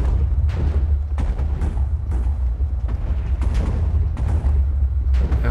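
Repeated heavy Minecraft TNT explosions boom through a dense, rumbling low end, bursts landing every second or so in a constant loud wash of blasts.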